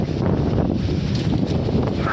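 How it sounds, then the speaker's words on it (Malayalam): Strong wind buffets the microphone on a hilltop ahead of a coming storm, a loud continuous roaring rush with gusty swells and no pauses. "ഇനി ഇവിടെ നിന്നാൽ ശരിയാവത്തില്ല കേട്ടോ അമ്മാരി കാറ്റാണ് കേട്ടോ"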